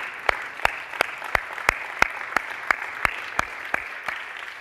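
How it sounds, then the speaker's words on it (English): A church speaker clapping his own hands alone: about fourteen sharp, evenly spaced claps in a quiet room, moderately close, with no other voices. "I'll just clap for myself."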